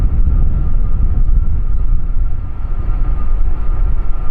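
Jet airliners departing Amsterdam Schiphol's westernmost runway, 36L, on westbound flights, produce a loud, steady low roar with a faint tonal whine that holds evenly throughout.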